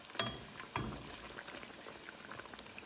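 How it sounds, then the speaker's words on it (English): Rice-flour-coated vadas for Mumbai vada pav frying in oil, a soft continuous bubbling crackle with a few sharper pops and a light clink, fairly quiet with no talking. "You can see how nicely it's fried here."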